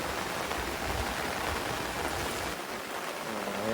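Steady, dense rain falls close by during a rainy-day fishing outing, a continuous wash of patter and hiss with no breaks and no talking.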